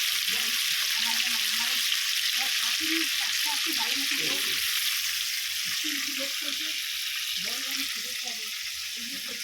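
Crab fries in a pan on a gas stove turned up high, giving a continuous close sizzle and crackle, with a voice murmuring low underneath.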